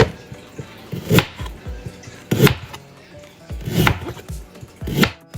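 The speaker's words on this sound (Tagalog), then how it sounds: "Gagayak lang tayo ng ating garlic," Garlic and ginger are chopped on a board, four distinct knife strikes spaced about a second apart, close and crisp, with no talking.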